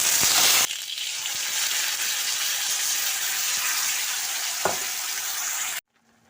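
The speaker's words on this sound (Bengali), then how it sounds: "আদা, পেঁয়াজ, কাঁচা লঙ্কা, টমেটোর পেস্টটা তৈরি করেছিলাম সেটা এখন তেলের মধ্যে দিয়ে দিচ্ছি" A paste of ginger, onion, green chilli and tomato hits hot mustard oil with a loud, close, continuous sizzle that holds steady and cuts off abruptly at the end, with no talking.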